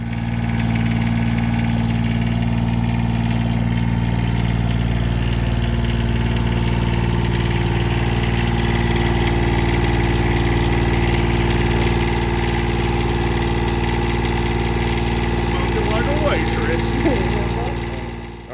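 A John Deere 332 diesel lawn tractor engine idles steadily and loud throughout, with a low droning hum and faint clatter, while a person talks over it near the end.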